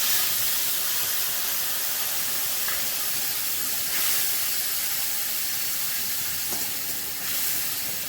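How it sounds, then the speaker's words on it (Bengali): Spice paste mixed in water tipped into hot oil with cumin and grated ginger, giving a loud, steady broadband sizzle and hiss that fills the whole stretch, with no talking over it. "আর জিরে ফোড়ন করলাম, গ্রেট করা আদা দিলাম, মশলাগুলো সব জলে গুলে রেখেছিলাম সেগুলো দিয়ে দিলাম।"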